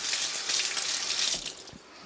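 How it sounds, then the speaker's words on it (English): Tap water gushes steadily into a kitchen sink as mixer beaters are rinsed under the stream, a broad close hiss that eases off near the end. "Now I'm just going to rinse off my beaters here"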